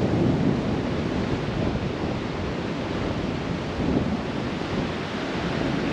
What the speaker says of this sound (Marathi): खूप वारा सुटला आहे.